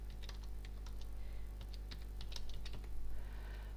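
Quiet, steady typing on a computer keyboard while entering invoice details for an e-invoice, rapid irregular key taps over a constant low electrical hum, no voices.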